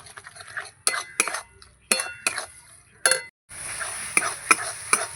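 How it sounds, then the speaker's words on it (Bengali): Spoon scraping and clinking against a pan while turmeric and salt are stirred into shutki dried-fish bharta, sharp close stirring strokes over a light sizzle, with a brief pause before the frying hiss grows louder. "এবার ভালো করে নাড়িয়ে নেব"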